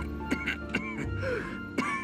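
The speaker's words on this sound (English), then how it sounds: "You guys probably can tell that means coughing." Several short coughs, three sharp bursts spaced unevenly, close by, with a brief voiced groan between them.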